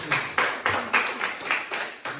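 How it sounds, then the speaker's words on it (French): Church congregation clapping together during a worship service, a steady rhythmic series of about eight sharp unison claps spaced evenly, moderately close and clear over quiet background. "Applaudissons le Seigneur."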